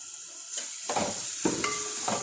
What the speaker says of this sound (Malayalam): സവോള വഴറ്റുമ്പോൾ നല്ല പോലെ വഴറ്റണ്ട കേട്ടോ ഒരു പകുതി വഴഞ്ഞാൽ മതി